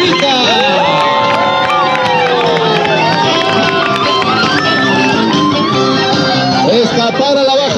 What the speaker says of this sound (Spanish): Un fuerte aplauso para Doña Enrica.